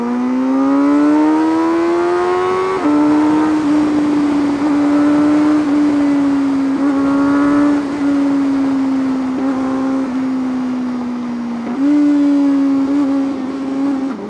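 A Kawasaki ZX-4RR or CFMOTO Voom 500SR sport motorcycle on a highway holds a steady, buzzy high-RPM engine drone that climbs, settles and briefly dips before rising again, loud and close throughout.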